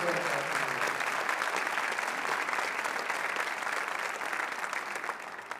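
Sustained applause from an audience at an evening Citizen of the Year ceremony, a dense, steady wash of many hands clapping that stays loud and even throughout before easing slightly at the end.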